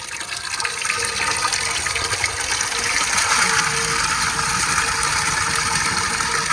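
Water poured from plastic bags while releasing fish fry into a pond gives a steady, broad rushing splash that swells slightly midway and runs on without a break, with no voices.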